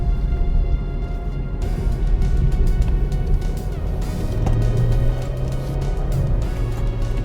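Inside a 2020 BMW 3 Series G20 M Sport driven in manual mode into a corner: a loud, constant engine drone with road roar, shifting pitch as a gear change comes and the revs rise and settle.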